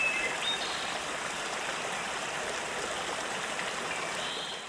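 River water flows steadily during trout stocking, a soft continuous rushing stream heard at moderate distance with no other prominent sounds.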